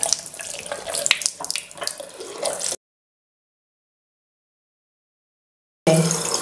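Tap water runs over a microfiber makeup sponge being rinsed, a steady splashing faucet stream for almost three seconds, then a gap of silence before the water comes back on.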